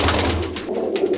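Fancy Muskie pigeons coo inside a loft in a short, soft, throaty burst of rolling coos. They sound close, with no voices over them.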